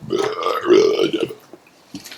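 A single loud, drawn-out burp from a young woman, close and deep, lasting about a second, followed by faint murmuring voices.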